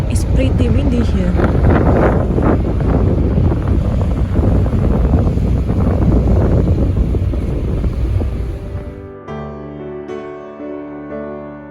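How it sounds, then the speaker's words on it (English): Wind blasts loudly across the microphone on the Sunshine Coast near Langdale, British Columbia, a steady roaring gust that fades near the end into a calmer tonal background. "It's pretty windy here."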